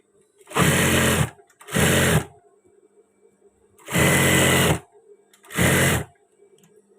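A sewing machine stitches a pocket on a men's batik shirt in four loud, close bursts of whirring motor, each lasting under a second, separated by quiet pauses.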